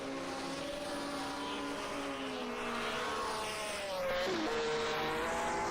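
Engines of 1967 Formula One cars, Honda and Brabham Climax among them, whine steadily in a racing video game at Clermont-Ferrand, with the pitch shifting as the cars change gear and pass.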